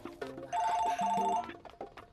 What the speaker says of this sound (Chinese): 我去接电话。